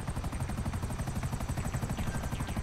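Helicopters in Grand Theft Auto Online give a continuous rhythmic rotor thump with engine whine, steady and moderately loud with no talk.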